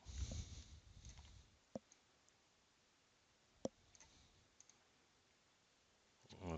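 Computer mouse clicks while modeling a low-poly asset in Maya 2016, a few crisp isolated clicks spaced seconds apart in a quiet room, with brief murmuring at the start and end.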